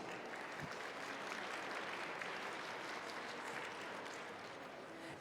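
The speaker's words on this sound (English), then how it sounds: "Can we please give our FTAs and field managers a good round of applause?" Steady applause from a crowd at a robotics state championship, a dense, even wash of clapping heard from a distance, quiet and continuous throughout.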